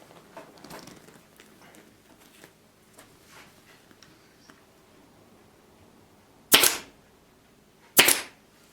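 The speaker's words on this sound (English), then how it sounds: "we're going to need to staple it here." Two sharp, loud staple gun shots fire about a second and a half apart while fastening an ATV seat cover stretched around a corner, following a stretch of quiet handling noises.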